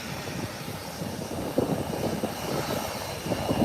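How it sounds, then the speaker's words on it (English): An Airbus A319 airliner runs its engines at an international airport, a steady mid-distance roar with slight surges and no voices over it. "It's an Airbus 319, the smallest of the Airbus family."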